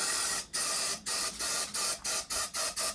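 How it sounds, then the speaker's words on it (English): Brake cleaner sprayed from an aerosol can onto carburettor jets during an RS Cosworth replica engine rebuild, heard as a run of about eight loud, hissing bursts in an uneven rhythm, each cut off by a short gap. "So we are swimming in brake cleaner, trying to clean all the jets."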